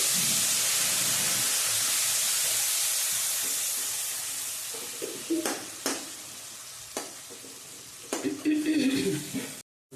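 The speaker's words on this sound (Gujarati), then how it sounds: "હવે આપણે જે મસાલો પલાળ્યો છે ને એ નાખવાનો છે" Soaked spice paste hits hot tempering oil with a loud broad sizzle that gradually fades, followed by sharp spoon scrapes and stirring knocks.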